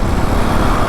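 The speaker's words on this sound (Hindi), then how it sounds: "गढ़मुक्तेश्वर का ट्रैफिक है ये।" Heavy traffic jam on a road at Garhmukteshwar, a dense, constant rumble of idling and creeping vehicles heard up close from a motorbike, loud and unbroken, with no talking.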